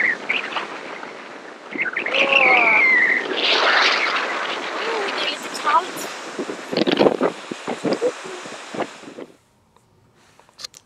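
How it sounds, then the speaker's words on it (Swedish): Strong wind roars and buffets in gusts while people talk, then the noise suddenly drops away to near quiet. "Gud vad det blåser!"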